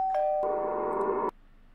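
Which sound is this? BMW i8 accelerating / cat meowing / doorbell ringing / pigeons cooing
doorbell ringing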